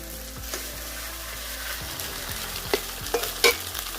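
Onion, ginger, garlic, black cardamom, cinnamon and mace frying in oil for a red chicken curry, a dense close sizzle with a few stirring clicks and scrapes near the end.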